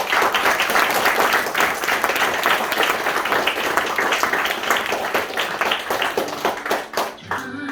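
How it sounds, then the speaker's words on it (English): An audience claps steadily for several seconds at an under-10s youth team's end-of-season presentation, a dense wash of applause that thins and fades out at the end, with some voices mixed in. "So a big clap for the management team."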